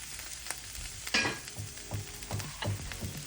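Beef stew with green onions is stirred in a pot on the stove, giving a soft sizzle with a few scraping and clinking stir strokes spaced through the stretch, fairly close and moderate in level.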